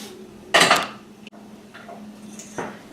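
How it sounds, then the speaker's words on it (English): A utensil stirring melting butter and brown sugar in a pan on a stovetop: a sharp scraping clatter, then quieter clinks and taps against the metal pan, with no talking. "we're just going to heat that up and stir it together until the brown sugar melts and the butter is melted"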